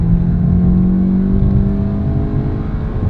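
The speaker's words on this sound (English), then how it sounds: "let's check out the acceleration. 106 horsepower, 4-cylinder" A 2017 Toyota Yaris iA with a 106-horsepower four-cylinder engine pulls hard in second gear, its engine note loud and steady from start to finish, pitch climbing slowly as revs build.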